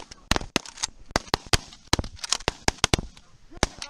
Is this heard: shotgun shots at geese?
yes